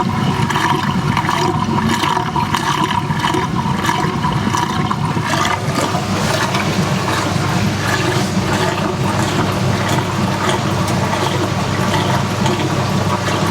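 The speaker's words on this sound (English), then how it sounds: "both machines are draining" Whirlpool and Maytag washers draining together, their motor-driven pumps giving off a continuous loud churning rush of water mixed with a rattling mechanical whir, steady and close for the whole stretch.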